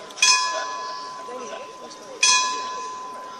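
Church bells in Matera, Italy strike twice, two seconds apart, each clear tone ringing on and slowly fading, with a faint murmur underneath.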